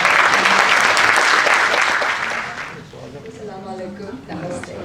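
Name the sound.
audience applause welcoming a poet to the stage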